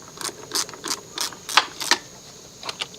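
An 11mm wrench loosens the negative battery terminal nut on a 1983 Mercedes 240D, giving around a dozen crisp, close ratcheting clicks in quick bursts.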